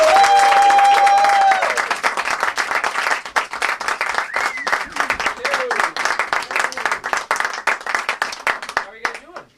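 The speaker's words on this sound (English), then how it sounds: "please give a healthy round of applause to Francis Menotti" An audience in a small close-up magic room claps for a magician, a crisp round of many hands that starts under a voice, then thins into individual claps before fading out.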